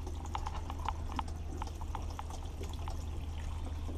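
Water from a boat's tank pushed out under pump pressure, heard as a steady splashing pour with irregular clopping knocks over a constant low pump hum.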